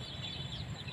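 Chickens cluck softly in a brief, low, close burst of murmuring fowl sounds with no voices.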